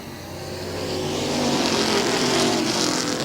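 Race cars at speed on an oval track, including the powerful 35 car, a steady, loud roar of engines that swells slightly as they pass, with no talking.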